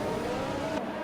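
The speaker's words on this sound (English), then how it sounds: "They're all revving up." F1 race cars in a video game rev their engines at the start of the Italian Grand Prix, a loud steady high-pitched engine roar that continues throughout.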